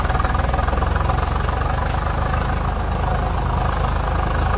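A tractor engine in the farming game Farming Simulator 22, running an Indian tractor mod, idles with a loud, steady low rumble and a regular pulsing throb that continues unbroken, close up with no talk.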